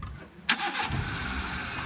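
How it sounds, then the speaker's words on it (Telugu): A Hyundai car engine cranks briefly with a sharp burst, then catches and settles into a steady, close idle rumble. "ఒకసారి ఇంజన్ కూడా మీకు స్టార్ట్ చేసి చూపిస్తా, చూడండి."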